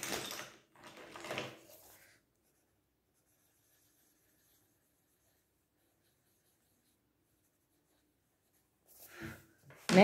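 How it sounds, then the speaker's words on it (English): Pencil scratching and coloring on paper comes in short bursts at the start and end, close and faint, separated by a long stretch of near silence. "So I'll draw a small ball inside it and I will color it."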